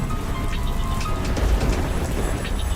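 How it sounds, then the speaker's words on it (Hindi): Steady rain and storm noise from an animated village story: a dense, even hiss of falling rain with a low rumble swelling near the middle, continuous and with no talking. "गांव में बारिश के साथ साथ तूफान भी आया हुआ था।"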